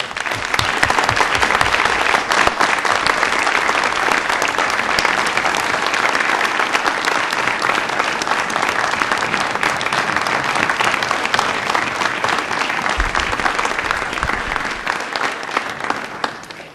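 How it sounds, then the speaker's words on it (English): Sustained round of applause at a council meeting, loud, dense clapping from a sizable audience that runs steadily for over fifteen seconds before tapering off. "One more round of applause."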